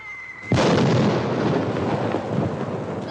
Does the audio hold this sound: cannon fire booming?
yes